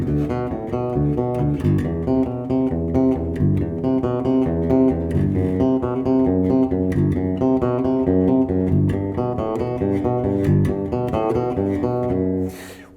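Bass guitar plays a Bach piece as an unbroken run of even sixteenth notes at flat, unvarying volume, with no shaping of dynamics or phrasing, heard alone and close for the whole stretch.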